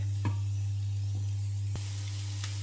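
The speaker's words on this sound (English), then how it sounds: "we'll just let those just fry for a couple of minutes before we add the garlic" Food fries in a pan before garlic is added, giving a steady, quiet sizzle with a constant low hum underneath and a few faint clicks or taps.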